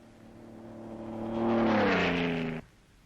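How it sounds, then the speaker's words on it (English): A car engine roars across a quiet desert in a 1930s film, its tone rising and swelling to a loud peak before it drops off suddenly, with no other sounds around it. "The roar of the engine is the only sound to break the desert silence."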